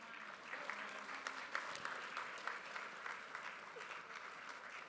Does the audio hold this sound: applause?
yes